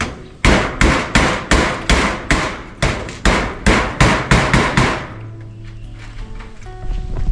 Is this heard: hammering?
yes